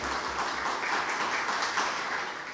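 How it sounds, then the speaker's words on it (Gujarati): An audience applauds to welcome a speaker at a library book-talk gathering, a steady wash of many hands clapping at moderate distance throughout. "આપણે તાળીઓથી એમને વધાવીએ"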